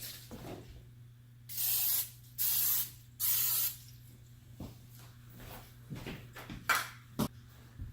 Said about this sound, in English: I'm just going to use a cooking spray, just a real light coat.